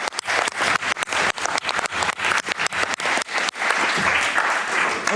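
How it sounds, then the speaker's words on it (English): Delegates at a WHO pandemic agreement negotiation session applaud, producing a clear burst of many hands clapping that starts choppy and uneven, then settles into a fuller, continuous wash of applause. "Let's give them an applause."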